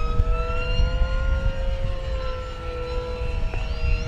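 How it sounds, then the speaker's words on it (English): A Banana Hobby P-40N Warhawk 1100mm 4S RC model plane makes a fast pass, its electric motor giving a loud, steady whine that holds and rises slightly in pitch near the end. "Let me do a fast pass here."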